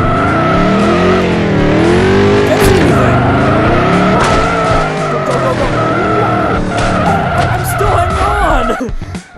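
Vehicle skidding and crashing in the video game Turbo Dismount, with loud, continuous tire squeal and engine noise throughout, sliding pitch sweeps and a jolt near the end.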